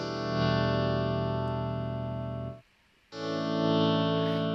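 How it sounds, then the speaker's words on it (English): Dry electric guitar chords with no delay or reverb: one sustained chord, then a brief silence before a second chord rings out, each tail stopping cleanly. "now I'm turning off the delay and the reverb so you can hear the difference"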